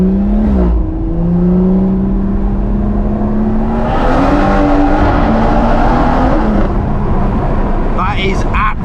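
BMW M140i with a new exhaust accelerating through a tunnel, loud and booming with engine pitch climbing and shifting, the roar echoing off the walls; someone talks over it.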